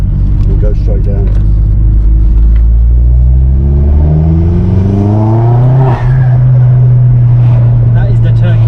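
Vauxhall Astra H VXR with a Forge recirculation valve, the valve giving a warbling, rising turkey-like gobble over a loud, steady engine drone that climbs in pitch, close and continuous.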